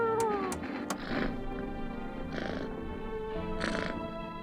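Cat meowing in the video game No, I'm Not A Human, a few short close meows over a steady tonal background hum, with soft breathy noises in between.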